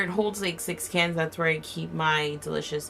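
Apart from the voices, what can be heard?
No everyday noises stand out.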